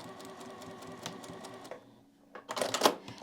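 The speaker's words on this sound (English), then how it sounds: "we're going to sew back and forth off the edge here" A sewing machine stitches quilted fabric back and forth off the edge of a makeup bag, a rapid mechanical whirring that pauses briefly, then resumes louder and busier.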